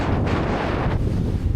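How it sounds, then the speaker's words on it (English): Strong, steady wind buffets the microphone on an exposed winter hilltop at Win Hill in the Peak District, a continuous low roar with gusty swells and no voices. "It's windy up here."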